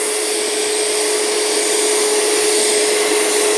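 Bissell carpet shampooer suctioning water out of a carpet, a loud steady whine with broadband airy rush and a constant high tone, continuous for several seconds with no pauses or talk.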